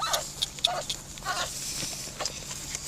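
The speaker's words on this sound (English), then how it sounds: "that's the puppy, all right" Several soft, high yips and whimpers from a young dog, scattered irregularly over a faint steady background hum.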